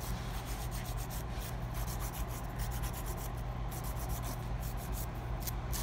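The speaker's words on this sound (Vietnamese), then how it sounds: "Cô này chỉ giũa thường thôi ha" A nail file works over acrylic powder nails at a salon, giving a faint, steady scratchy rubbing in quick repeated strokes that runs on throughout without pause.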